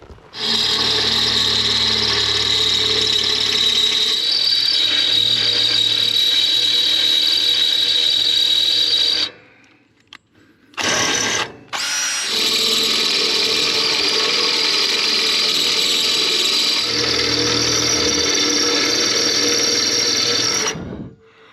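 A power drill grinds through heavy gauge metal on a barrel sauna renovation, screeching loudly in two long sustained bursts separated by a brief pause with short stutters, close up and with no talking.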